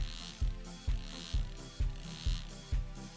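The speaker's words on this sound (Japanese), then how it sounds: "これでもうモーターの回転を制御できるようになりました。" A small motor driven by a simple LED-blink program on an electronics hobby board, switching on and off in a steady rhythm of about seven mechanical pulses, each a short whirring clack, close and fairly quiet, with no voices.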